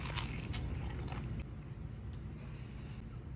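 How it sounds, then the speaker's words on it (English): Loud, close crunching of teeth biting into crispy home-fried chicken, with a dense crackle at the first bite that continues more steadily, alone without talk. "listen to this crunch"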